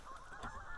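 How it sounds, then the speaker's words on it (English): Geese honking over water during a fishing outing, a steady chorus of calls that is faint and distant, with no talking. "Listen to the geese."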